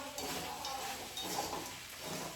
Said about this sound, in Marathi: आणि दोन ते तीन मिनिटपर्यंत चांगलं परतून घेते म्हणजे आपला लेमन राईस तयार होतो